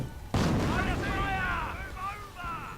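Gunfire and explosions hit barracks in a World War II strategy video game, a loud burst erupting suddenly and rumbling on under a steady wash of battle noise.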